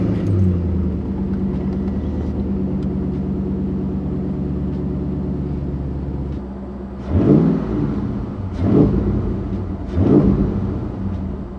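A tuned Ford 3-valve engine idles with a steady low rumble, then revs three times in sharp rising blips, close and loud with no talking.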